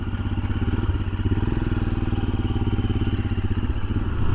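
A Royal Enfield Scram 411 motorcycle pulls away on gravel and dirt, its single-cylinder engine thumping in a steady, loud, close rhythm that holds throughout with no talk.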